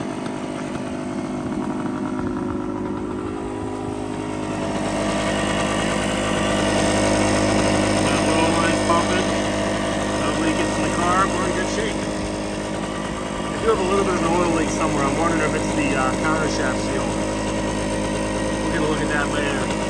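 A 1975 Suzuki TS125 two-stroke motorcycle engine idles with a continuous buzzing burble that rises slightly in the middle, close by, while someone talks over it.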